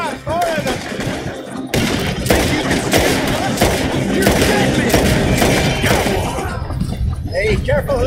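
Rapid gunfire and crashing impacts in a chaotic firefight, loud and sustained for several seconds, with people shouting over the shots and a brief lull before bursts resume.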